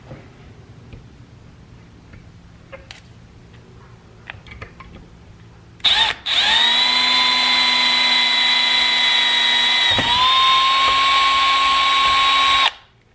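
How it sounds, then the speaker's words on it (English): A power drill boring a 0.105-inch hole into a 47RE transmission valve body: a few faint handling clicks, then a loud, steady high whine that dips once mid-cut and runs for about seven seconds before stopping. "with just that 1 hole drilled in there, that is actually just a little bit bigger than what they had suggested"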